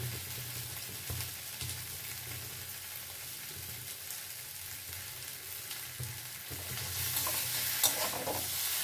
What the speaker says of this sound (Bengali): একটু ভালো করে নাড়াচাড়া করে নেব। মশলা দিয়ে কষানো হয়ে গেল।